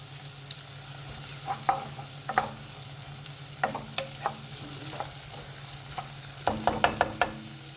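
Food sizzles in oil and butter in a pan while a spoon scrapes and taps against the pan in irregular bursts. The frying is close and moderately quiet, with no talking.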